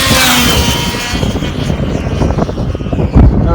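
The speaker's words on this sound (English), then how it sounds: "Here we go. Rolling on the throttle." A Traxxas Slash RC car motor is pushed to full throttle, producing a loud, high-pitched whirring whine that sweeps and fades, with gritty rolling noise and a brief thump near the end.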